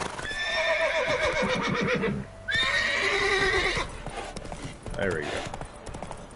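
Roach the horse in The Witcher 3 clip-clops at a steady gallop and lets out two loud whinnies, with a voice briefly speaking over the hoofbeats.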